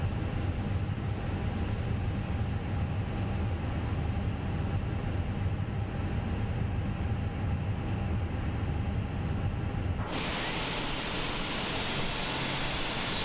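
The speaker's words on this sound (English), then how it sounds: "Start switch to the start position, engine 2, we're starting it up." Airbus A320 engine two spooling up in Microsoft Flight Simulator 2020, heard as a steady broadband rumbling roar, with a brighter higher-pitched whine cutting in sharply near the end, no talking.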